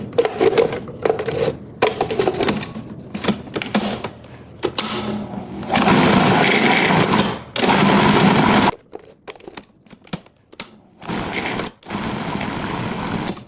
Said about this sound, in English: I'm gonna try and break it down a little bit to help the food processor.